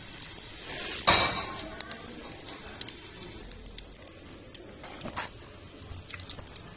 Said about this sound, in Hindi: तेल हमारा गर्म हो गया है, और अब डालूंगी मैं जीरा